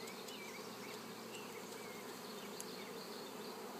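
A steady, dense buzz of many honeybees at an open hive hums close by, continuous and even throughout, with occasional individual bees zipping past.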